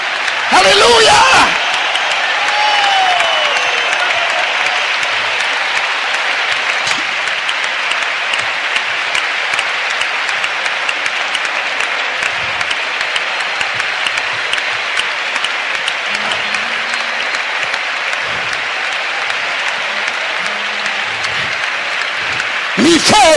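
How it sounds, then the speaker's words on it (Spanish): A Pentecostal church congregation applauds loudly and continuously for over twenty seconds, a thick, steady roar of clapping with voices faintly mixed in underneath. "Ahora sí vamos a darle un fuerte aplauso al Señor todos juntos."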